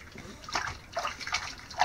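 Water splashes and trickles in short pours while a kitten is bathed, close and moderately loud, with a person talking over it.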